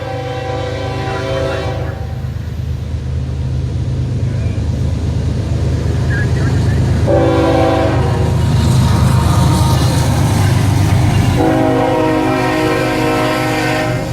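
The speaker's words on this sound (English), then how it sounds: "Actually, an ethanol train, empty ethanol train." An empty ethanol freight train rumbles steadily past, wheels grinding and clanking over the rails, with a horn sounding in bursts throughout.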